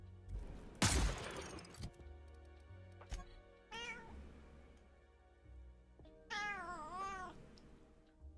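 Cat meowing in The Outer Worlds video game, several drawn-out wavering meows with a sharp crash and quieter game sounds between them, moderately loud.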